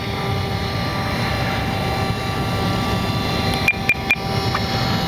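An RC Horten BV-38 German concept bomber model with its motor mounted at the very back, droning steadily in flight throughout, with a few sharp clicks near the end.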